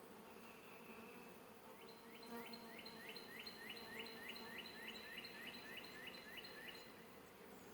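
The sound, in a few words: honey bees buzzing in the hive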